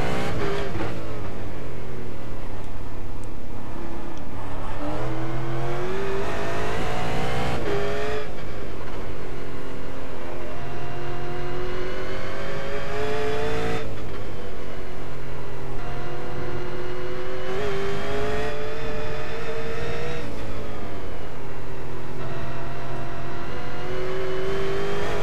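A 600 hp V8 race car in the iRacing sim roars around the Oran Park go-kart track. The loud, continuous engine note rises and falls through repeated revving sweeps and gear changes, with no one talking.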